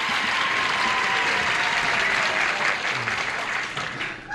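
A studio audience on a 1976 TV game show applauds and cheers in a loud, continuous wash of clapping that tapers slightly at the end.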